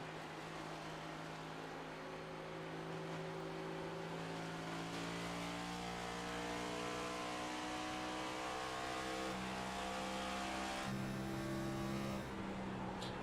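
Next Gen Cup race cars roar through a sim racing game at Darlington, a steady dense engine drone with several rising and falling tones of multiple cars running close together, loud and continuous throughout.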